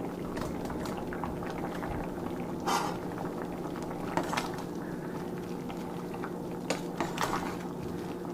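A pot of southern pinto beans seasoned with red pepper simmers at a steady boil, bubbling and popping continuously with a few sharper splashes, close by and with no voices.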